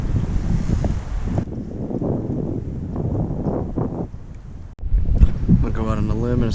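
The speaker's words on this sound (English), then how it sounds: "Bit windy today." Wind gusts over open water beside a dock in Florida and buffets the microphone with heavy low rumbling. A brief quieter lull comes before a loud gust returns, and a voice can be heard faintly in the background.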